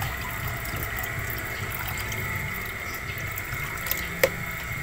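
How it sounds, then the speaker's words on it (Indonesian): Water pouring steadily into a four-litre container for mixing fertiliser to feed fruiting grapevines, a continuous close splashing rush with a brief knock near the end, no voices. "baru kita campurkan dengan air ke tempat pengocor yang berisi 4 liter ya"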